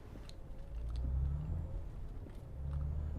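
Truck engine idling and rumbling low in Euro Truck Simulator, a steady deep drone that swells gently and fades slightly as the rig slows toward parking, no voices.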